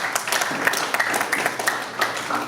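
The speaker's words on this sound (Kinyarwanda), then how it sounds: "amashyi mwabwoko bw'Imana" Congregation clapping at a Rwandan betrothal and dowry ceremony after a closing prayer, a dense, steady patter of many hands at moderate distance with no voices over it.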